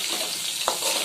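Fish frying in oil in a wok, a soft continuous sizzle with one brief clink midway, close and quiet, no voices.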